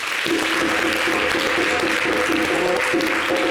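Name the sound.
audience applause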